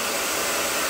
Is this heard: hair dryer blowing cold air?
yes